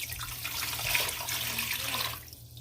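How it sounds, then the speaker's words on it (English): Homemade chicken broth pouring into a pot while making chicken and dumplings, a steady close splashing, gurgling stream of liquid that runs for a couple of seconds and then stops. "Now pour it in."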